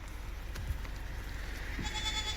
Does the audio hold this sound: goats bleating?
yes